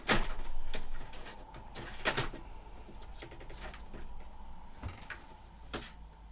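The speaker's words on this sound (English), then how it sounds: "now the printer's making a shit ton of noise" A home inkjet-style printer loading paper, heard as repeated mechanical clunks and whirring bursts at irregular intervals, fairly close and loud, with a steady hum underneath and no talking.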